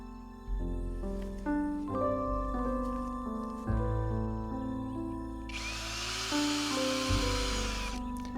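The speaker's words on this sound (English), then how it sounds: "We're also pre-drilling these boards where the screws will go through to attach them to the structure" A power drill whirs in repeated short bursts, its pitch rising and dropping with each run, then a harsher grinding stretch as the bit bites into wooden boards while pre-drilling screw holes.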